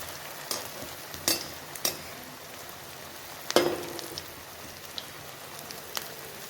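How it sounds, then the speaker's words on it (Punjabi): Veg manchurian balls deep-frying in oil over a medium-low flame, a quiet steady hiss with scattered soft pops and crackles, one louder spatter midway, no voices. "ਮੀਡੀਅਮ ਟੂ ਸਲੋ ਆਂਚ ਤੇ ਇਹਨਾਂ ਨੂੰ ਫਰਾਈ ਕਰਨਾ ਹੈ"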